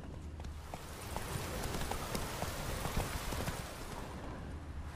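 Galloping horse hooves in The Witcher 3 Wild Hunt make a dense, continuous clip-clop at a fast pace, close and steady over a few seconds.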